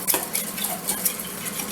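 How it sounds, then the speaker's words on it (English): Sriracha sauce being mixed in a bowl with a utensil instead of a whisk, giving light repeated scraping and clinking against the bowl, close and fairly quiet, with no voices. "Go in here and just mix it all up."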